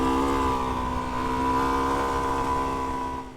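Suzuki DR-Z4S dual-sport motorcycle engine riding off-road over rocks, sand and singletrack, a steady loud single-cylinder drone holding an even pitch throughout, close and with no speech.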